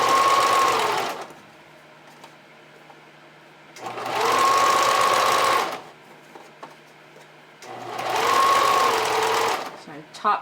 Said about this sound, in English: I'm top stitching through the front, or top stitching on the right side